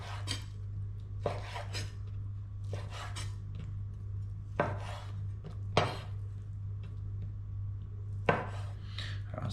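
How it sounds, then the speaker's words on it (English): A knife chopping crayfish into small pieces on a board, a series of separate knocking cuts at an uneven pace over a steady low hum, with no talking. "we just want to cut that into some relatively small sections"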